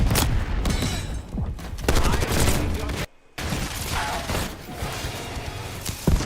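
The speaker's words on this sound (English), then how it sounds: "Enemy grenade." A grenade explosion in a Call of Duty multiplayer match, heavy booming bursts mixed with rapid gunfire and loud battle noise, cut by a brief drop to near silence before the chaotic firefight resumes.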